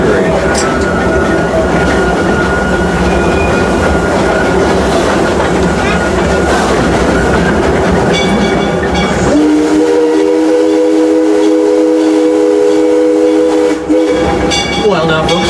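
Green amusement park train on the Six Flags Railroad rolling along with a steady rumble and rail clatter, sustained whistle tones rising over the noise, and a voice talking over it.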